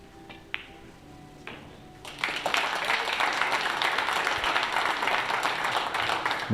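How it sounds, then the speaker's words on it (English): A crowd at a pool match, a men's 8-ball event, breaks into sustained applause after a quiet stretch of a few faint taps, the clapping swelling and holding steady to the end. "Nice applause from the crowd as Shane gets 2 on the board."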